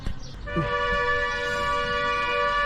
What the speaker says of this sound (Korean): 아까부터 저차 소리는 도대체 뭘 의미하는지 모르겠으나 아까부터 빵빵거리고 다니네 저거